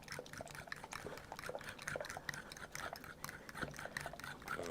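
Baking soda worked into homemade slime by hand makes faint, rapid, sticky squelches and clicking pops in an uneven rhythm, close by and with no talking.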